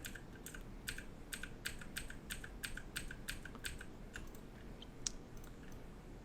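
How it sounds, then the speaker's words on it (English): Rapid run of crisp computer keyboard key presses, about a dozen taps in a quick steady rhythm, close and clear over a low room hum, as Control Z is pressed repeatedly, with a single sharper click near the end. "So I'm going to hit Control Z until we get back to what we had originally."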